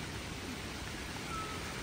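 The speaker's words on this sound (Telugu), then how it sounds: "మళ్ళీ వర్షం షురు అయింది." Rain falls steadily in a forest, a dense even hiss of drops on leaves that stays constant and close throughout, with no voices.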